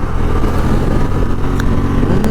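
A Honda Transalp motorcycle being ridden gives a steady, loud engine rumble throughout, holding an even pitch with no pauses and no voices.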